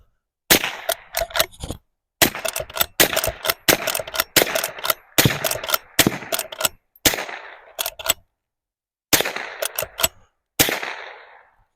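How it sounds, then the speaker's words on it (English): Henry silver nickel-plated .22 lever-action rifle firing outdoors, sharp close cracks in quick groups, with the metallic clack of the lever cycling between shots and brief silent pauses. "I'm gonna give you some more shooting here."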